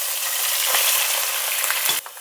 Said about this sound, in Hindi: गोश्त को हम अच्छे से भून रहे हैं।